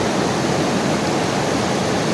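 Rushing flood water of the Nyamwamba River in Kilembe, Uganda, a loud, steady broadband roar of churning water that fills the whole moment without a break and with no voices over it.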